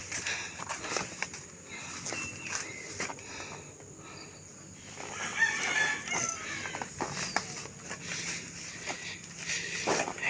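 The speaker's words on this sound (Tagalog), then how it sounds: "Tunog ng ibon ang maririnig mo." Bird calls ring out outdoors at a campsite in Tanay, Rizal, Philippines, including a rooster crowing, over a steady hum of insects and a few scattered chirps.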